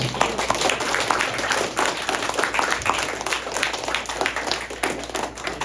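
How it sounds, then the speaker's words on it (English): Audience applause after a high school technical talk on quantum computing, a dense, steady wash of many hands clapping for the whole stretch, fairly loud and close, with no speech over it. "let's give Dr. Wong a round of applause."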